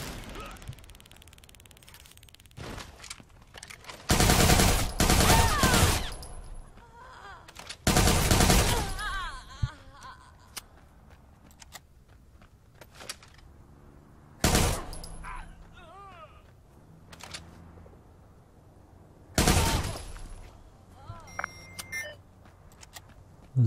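Gunfire in the video game Watch Dogs 2 comes as several loud, dense volleys spaced several seconds apart, with quieter game sounds, faint beeps and occasional shots in between.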